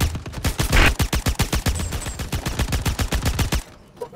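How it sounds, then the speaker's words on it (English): Rapid automatic gunfire from a weapon in the Star Citizen video game, a long sustained burst of evenly spaced loud shots lasting several seconds before cutting off. "Fire, fire, shoot, shoot, shoot."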